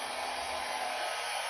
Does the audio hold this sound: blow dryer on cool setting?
yes